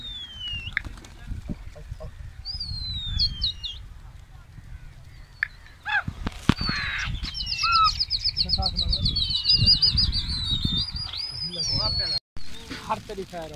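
Pigeons in a pigeon keeper's setting give repeated chirps and high calls over a rumbling background, with people talking throughout.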